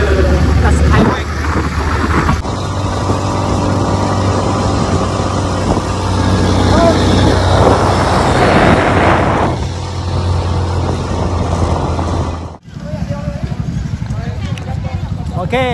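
A Yamaha Tracer 9 GT motorcycle riding along a road in Thailand, its engine a steady loud drone under heavy wind rush, which cuts out abruptly near the end before resuming.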